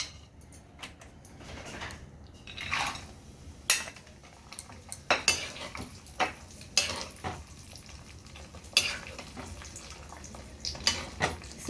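Halved almonds frying in hot ghee, with a steady low sizzle under repeated sharp scrapes and clicks of a spoon stirring against the pan, close up and without talk.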